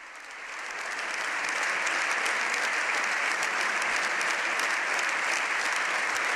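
Long, steady applause from a large audience of deputies in the Spanish Congress, swelling in over the first second and then holding at a dense, loud, even roar of many hands clapping, with no voices standing out.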